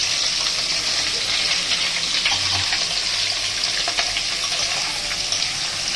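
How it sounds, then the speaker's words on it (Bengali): Onion and potato frying in white oil in a home kitchen, giving a steady, close sizzling hiss that runs unbroken through the whole stretch. "পেঁয়াজ আলুটা ভাজা করে নেব"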